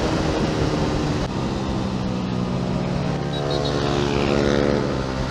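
A loud motorcycle engine on a long-distance endurance ride, a steady, continuous drone close by with a rumbling low end and wind rush, holding at full volume throughout.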